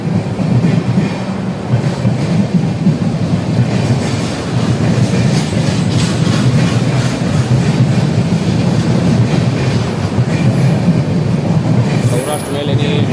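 The Saurashtra Mail express (22956) thunders through a station at full speed with a loud, continuous rumble and rapid rhythmic wheel clatter. Brief high squeals come near the end, and a voice speaks over part of it.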